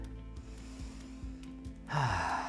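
A tai chi practitioner draws a soft breath in during the exercise, a faint, close inhale that swells briefly near the end over quiet room tone.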